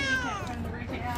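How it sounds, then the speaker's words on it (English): A cat gives a drawn-out, falling meow up close, sounding unhappy and restless while someone talks nearby. "Look at the kitty trying to break out."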